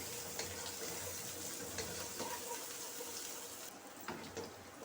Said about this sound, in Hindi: प्याज को हम हल्का सा ब्राउन करेंगे